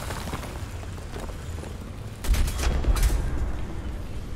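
Machine gun fire in the tank battle video game War Thunder comes as a short burst of muffled, rumbling shots partway through, over a low, continuous background drone.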